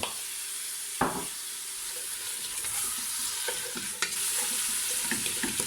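Turmeric and spices stirred into a sizzling harira soup base in a pot, a steady frying hiss with occasional spoon knocks and scrapes, close and moderately quiet, no speech.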